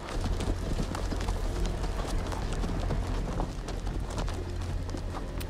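In the Game of Thrones Telltale video game, horse hooves beat out a steady, dense clip-clop that runs loud and unbroken, backed by a continuous low rumble.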